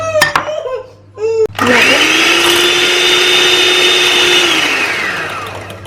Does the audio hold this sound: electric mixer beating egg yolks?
yes